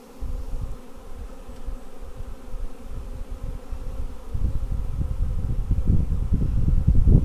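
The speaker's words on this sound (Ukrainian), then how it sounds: "Ну, рій невеликий, так, Артем?" A small swarm of honey bees hums steadily close by during a hiving, a dense low buzz that thickens and grows louder toward the end.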